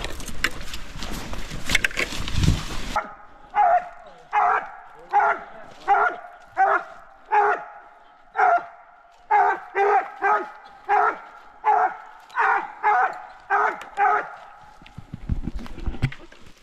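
A coonhound barks at a tree during a coon hunting competition, repeatedly in a steady, loud rhythm of long baying calls, with brief rustling and noise at the start and end.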